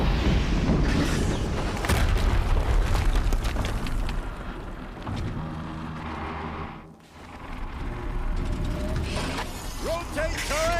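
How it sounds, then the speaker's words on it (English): A dense, rumbling explosion roars through a Horizon Zero Dawn battle, a broad loud blast with crackling debris that dips briefly near the end before the noise swells again, with a voice over it. "Another explosion."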